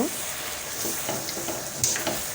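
Blended raw mango is stirred into caramel in a pan for a mango leather sweet, giving a steady soft sizzle with scattered scraping strokes of a spoon, close and continuous, with no voices.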